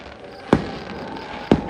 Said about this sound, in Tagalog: biglang may nag-fireworks. Tara, ay nagpa-fireworks sila.